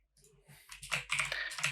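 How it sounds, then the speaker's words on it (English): Typing on a computer keyboard while laying out code, quick irregular key clicks close to the mic that start sparse and grow into a steady busy patter. "Let's just type it out."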